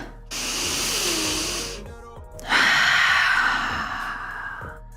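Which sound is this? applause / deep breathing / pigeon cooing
deep breathing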